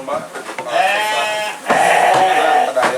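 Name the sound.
sheep bleating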